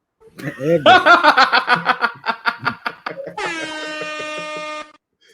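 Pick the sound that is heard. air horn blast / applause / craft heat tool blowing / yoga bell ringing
air horn blast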